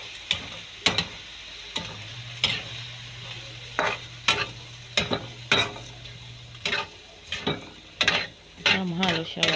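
Egg and bitter gourd being stirred in a frying pan, with a light sizzle under repeated sharp spatula scrapes and taps against the pan in an uneven rhythm, close and fairly loud.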